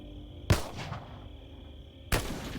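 Two sharp gunfire bursts from overwatch shots in the tactical video game Xenonauts 2, about one and a half seconds apart, each a loud crack with a short ringing decay over quiet background ambience.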